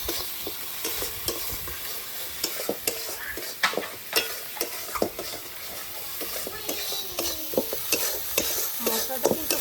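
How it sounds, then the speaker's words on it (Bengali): Spices with turmeric and salt stir-fried in a wok for a chital fish curry, a steady close sizzle broken by repeated spoon scrapes and clinks against the metal, no voices. "তারপরে দেবো হলুদ। ভালো করে মশলাটা কষাতে হবে।"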